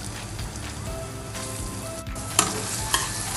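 Garlic and onion sautéing in oil for chicken spring roll filling, a steady close sizzle with light stirring, two sharp spatters or utensil knocks near the end, and no speech.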